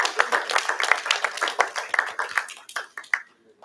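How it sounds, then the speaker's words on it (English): A church congregation applauds together at a Sunday service, a dense burst of clapping that fades over a few seconds, with no talk over it. "give everybody who supported a round of applause"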